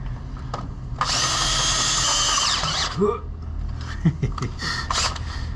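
A power drill with a slightly dull bit and cutting oil bores into metal while a Teraflex Sport ST3 suspension lift is installed on a Jeep, one loud whining burst of several seconds, then quieter clunks and voices.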